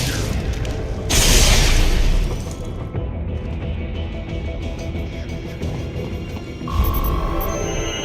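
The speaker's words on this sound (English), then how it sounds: "Firing RPG!" An RPG rocket launched and detonating in Metal Gear Rising, a loud booming blast followed by a rumbling, throbbing tail, then a second burst near the end, no talking.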